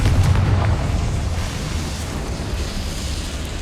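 Confringo fire spell blast in the Hogwarts Legacy video game: a loud booming burst at the start with a rumbling, explosive tail that stays steady and dense for several seconds, with no talk.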